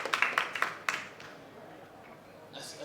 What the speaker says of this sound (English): round of applause, please, for our last speaker,